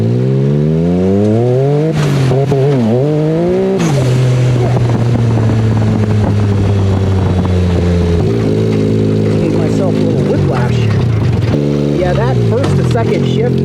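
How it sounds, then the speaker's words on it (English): Boosted car with a new transmission and rear end accelerating hard, engine note climbing in loud rising sweeps, cut short by quick flat-shift gear changes with abrupt pops, heard close from inside with the drive continuing. "Second shift, man, with the boost, with the flat shifting, that is violent."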